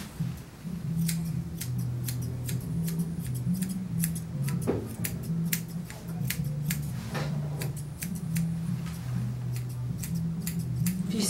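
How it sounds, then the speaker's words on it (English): Grooming shears trim a Cairn terrier's legs, giving rapid crisp snips in a steady irregular rhythm. The cuts are close and clear over a constant low hum of background noise. "gonna come back and kind of just trim the legs with scissors"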